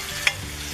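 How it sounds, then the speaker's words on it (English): Cherry tomatoes drop into a hot pan of lemony scallop spaghetti sauce, a single soft plop landing over a steady, low, close sizzle. "And I'm going to put my cherry tomatoes in here."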